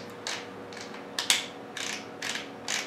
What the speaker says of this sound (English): close the bolt up